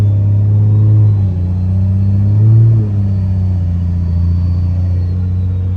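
Cummins diesel engine fitted with an S472 turbo, running on stock fuel at about quarter throttle, gives a steady loud low rumble that swells briefly around the midpoint with a faint rising whistle as the turbo spools.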